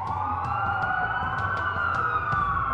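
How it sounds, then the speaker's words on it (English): Police sirens wail steadily in the open-world video game Watch Dogs, a loud continuous rising and falling tone over low rumble, with short clicking transients on top. "That's a lot of sirens for a blackout."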